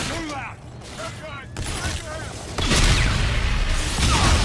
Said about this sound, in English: Oh, something just blew up.